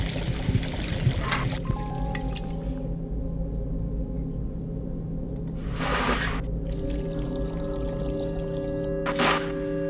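Water drains from a tank through a red faucet in the video game Still Life, heard as several separate gushing, trickling bursts over a sustained low tonal hum.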